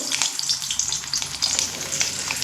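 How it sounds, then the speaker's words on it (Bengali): Cut potato pieces dropped into hot oil left over from frying fritters, crackling in a dense, close, continuous sizzle with no voices. "তেলের মধ্যে দিয়ে দেব কেটে একটা আলু"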